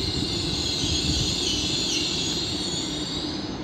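A Manchester Metrolink tram bound for Altrincham pulls into Manchester Victoria, giving a steady, fairly loud rolling rumble topped by a continuous high wheel squeal that holds for several seconds, with no talking.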